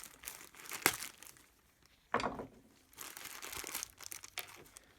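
Plastic packaging holding oil change parts for a BMW E60 M5 is cut and torn open, giving several close crinkling and tearing bursts with short pauses between them.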